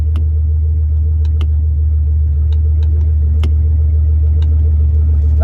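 A turbocharged Fox-body Mustang running on boost makes a steady, loud, close engine roar during a drag-strip pass, with a constant deep rumble and brief sharp transients throughout and no talk.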